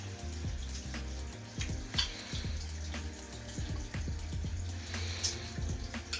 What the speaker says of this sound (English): Make sure you give them a good wash with soap and water